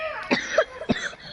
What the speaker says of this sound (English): But you coughing like a lot